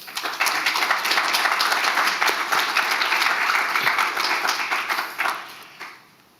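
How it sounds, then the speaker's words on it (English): An audience at a talk event gives a full round of applause: loud, dense, continuous clapping that holds steady for about five seconds, then thins out and fades away. "Dr. Alethea Beatson, round of applause"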